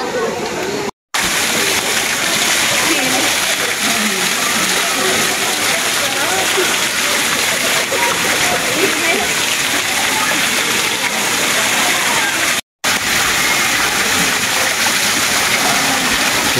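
Hot spring water flows and splashes continuously at a natural pool at San Benon, a steady close rushing wash with occasional sloshes, with people talking over it.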